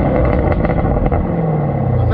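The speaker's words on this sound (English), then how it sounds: "give us a rev real quick" A supercharged Chevrolet Camaro ZL1 1LE is revved while parked. A loud, rough, close engine roar holds steady for about two seconds.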